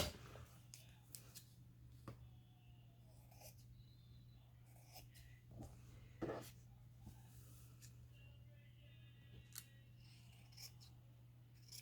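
Scissors snip paper for a nature-themed craft journal, a series of quiet, scattered cuts and rustles over a low steady hum, with soft breathing nearby.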